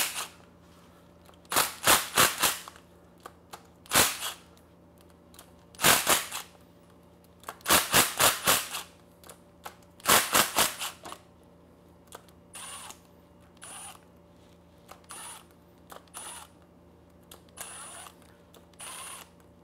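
Bolts on the camshaft caps of a VR6 cylinder head are slowly backed out with a ratchet, heard as several separate bursts of rapid sharp clicking with short pauses between, close and alone, then lighter clicks near the end.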